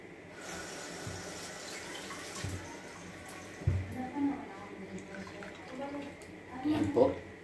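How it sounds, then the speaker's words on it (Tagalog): Tap water running into a sink full of dishes during kitchen washing-up, a soft continuous flow with occasional clinks and splashes, while a person talks over it. "Lagyan natin ng tubig."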